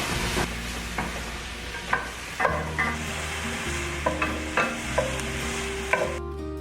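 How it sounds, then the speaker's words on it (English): Onions and garlic fry in a pan with a steady soft sizzle, punctuated by repeated clacks and scrapes of a spoon stirring, close and clear with faint tonal hum underneath; no voices. "And now I'm gonna add my onions."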